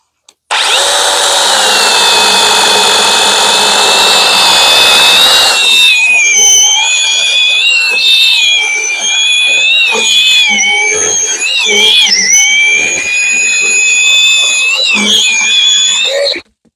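A loud, steady motor whine of a Mellif 20V cordless chainsaw biting through dry wood seasoned two to three years, the pitch dipping and wavering as it cuts, continuous for the whole stretch.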